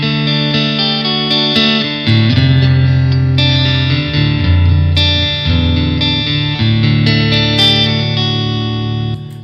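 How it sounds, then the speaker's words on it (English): Electric guitar played through a booster pedal into an amp, ringing out thick overdriven chords with sustained, saturated tone, loud and steady, with a few chord changes across the passage and no talking. "I can jump into that to really classic overdrive sounds, to modern"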